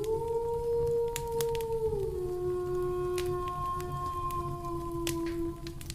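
Wolves howl to call one another, one long sustained howl sliding down in pitch and holding, layered over a low steady background with faint clicks and no talking.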